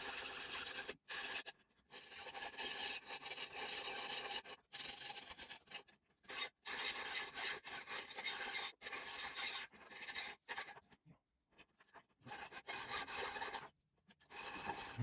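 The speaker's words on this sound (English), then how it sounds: "we'll go over to where I do all the sanding" Hand sanding of a micarta guitar pick, a close, dry rasping scrape in repeated long strokes separated by brief pauses, loud and alone.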